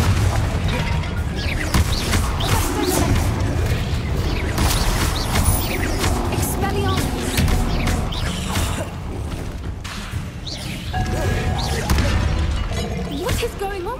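Bombarda and Confringo explosion spells in Hogwarts Legacy, a dense continuous barrage of blasts, crashes and shattering debris with mechanical clanks, loud and close; a voice shouts over the din.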